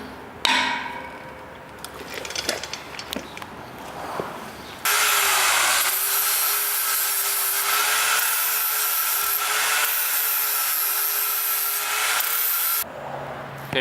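A broken cast aluminum pipe fitting piece is beveled, first with scattered scraping and rubbing, then a loud steady power-tool whine grinding continuously for about eight seconds before stopping.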